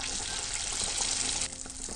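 Belyashi meat pies are lowered into hot frying oil in a 24 cm pan, giving a loud, steady hiss and bubbling sizzle that eases slightly after about a second and a half.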